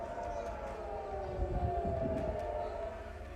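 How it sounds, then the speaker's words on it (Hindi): An air raid siren wails steadily in Israel during a Hamas rocket attack, a sustained droning tone under a low rumble of background noise and voices. "तीन शहरों में जंग का सायरन बजने लगा है।"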